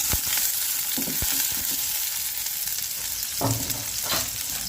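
Garlic and onion sautéing in a hot pan, a steady broadband sizzle with occasional stirring clinks and scrapes, close and continuous with no talk.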